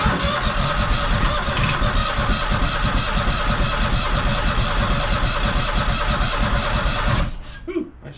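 A junkyard Kohler engine cranking with a rough, continuous mechanical churn for about seven seconds, loud and close, then cutting off abruptly and leaving a few faint clunks.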